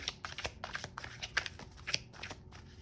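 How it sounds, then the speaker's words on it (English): Playing cards are shuffled quietly up close, a series of soft riffling bursts in quick succession. "I go ahead and shuffle these cards"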